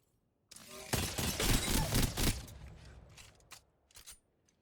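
RE-45 pistol firing in Apex Legends, a rapid, loud burst of automatic shots with mechanical clatter, tapering into a few scattered, quieter shots and clicks.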